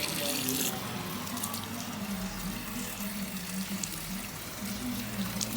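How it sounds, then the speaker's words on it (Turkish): Running tap water while hair is being rinsed during an ombre colour job, a continuous close rushing splash with a low hum underneath and faint background voices. "Hızlı hızlı bu saçı yıkayacağım."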